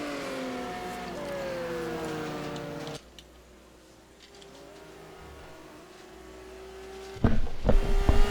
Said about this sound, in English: these high horsepower, 600 horsepower GT1 cars can be a handful coming off of that line when you smash